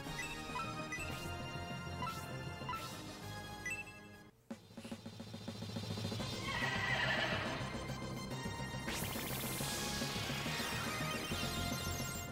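A horse in the Saturn game Shining Force III whinnies and neighs over background game music, with clip-clop hoofbeats and a brief break in the middle.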